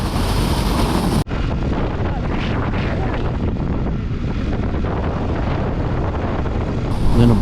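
Strong wind buffets the microphone on the Tasmanian north coast near Brickmakers Beach, a loud, steady roar that runs throughout with a brief dropout just after the first second and gusts rising at the end.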